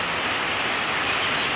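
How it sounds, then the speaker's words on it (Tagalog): Heavy rain pours steadily outside on a farm during the rainy season, a dense, even hiss that holds constant at close range with no break and no voices. "ang lakas ng ulan kung naririnig nyo"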